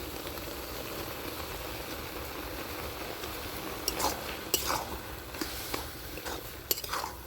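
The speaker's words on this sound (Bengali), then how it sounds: "নারকেল দিয়ে লাউয়ের সঙ্গে আর একবার ভালো করে নেড়ে নেব" A spoon stirs grated coconut and bottle gourd in a pan for gourd payesh, giving soft intermittent scrapes and clinks over a low, steady background hiss, with no one talking.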